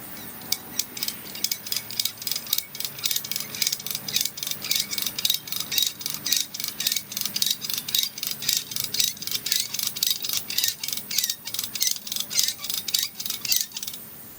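A ratchet cable tensioner cranks tension into a 150-foot backyard zipline cable, a steady series of quick metallic clicks repeating evenly at moderate distance with no talking.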